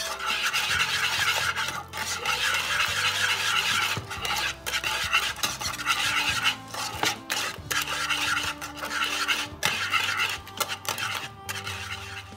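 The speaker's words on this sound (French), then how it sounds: "je mélange encore une fois pour bien incorporer le beurre" A whisk stirs butter into pastry cream in a bowl, giving a continuous rhythmic scraping and rubbing, close and fairly loud, with brief pauses and no talk.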